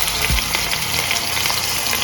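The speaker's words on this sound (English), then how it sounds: "you want to drop it in after it's hot. You want to hear that sizzle?" Steady hiss and crackle of goat meat frying in hot oil, a continuous sizzle with faint pops, close up and without voices.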